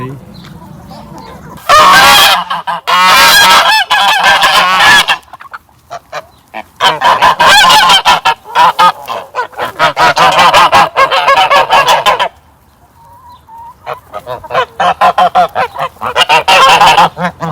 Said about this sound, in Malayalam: തക്കട് കോഴിക്ക് തീറ്റ കൊടുക്കാണ്